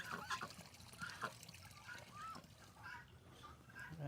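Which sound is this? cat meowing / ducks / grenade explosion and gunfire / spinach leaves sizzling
ducks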